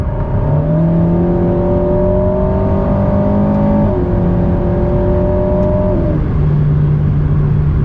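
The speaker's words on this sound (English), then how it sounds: "let's just make a small acceleration. 5th gear." A 2019 Alpine A110 S accelerating in fifth gear, its engine note rising steadily and loudly from inside the cabin, dipping briefly as the revs settle and then climbing on again.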